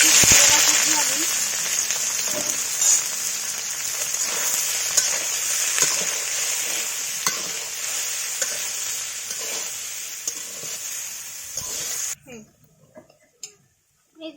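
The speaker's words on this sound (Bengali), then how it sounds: "কড়াইতে তেল দিয়ে দিছি, তেলটা গরম হয়ে গেছে। এবার সয়াবিন ভেজে নিব।" Soybean chunks fry in hot oil in a wok with a loud, continuous close sizzle and occasional stirring scrapes, ending abruptly in near silence broken by a few faint clicks.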